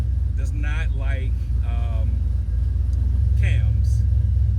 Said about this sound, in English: my man Decipher has this car idling and driving like it's from the factory